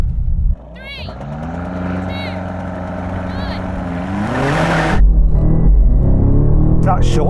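BMW M8 and rival tuned cars launching in a video game drag race, engines rumbling and revving in rising pitch sweeps through gear changes before a sharp shift, with voices talking over the start.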